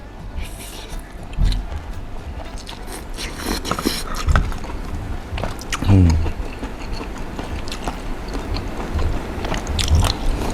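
Someone chews fried mushrooms with vegetarian glass noodle larb, producing close, moist biting and crunching bites at irregular intervals, with soft murmured sounds between mouthfuls.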